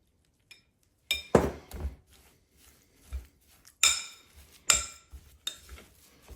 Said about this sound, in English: I'm gonna give that a little stir.